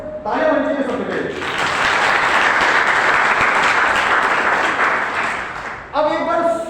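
An audience at a motivational talk breaks into loud, dense, sustained clapping for about five seconds, with someone speaking just before it starts and again right after it fades.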